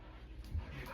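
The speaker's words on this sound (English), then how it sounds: "I'm sorry about my dogs. You see them? They're crazy. It's playtime." Several dogs at play give short whimpers and yips close by, low and muffled, the sounds bunching together toward the end of a brief moment.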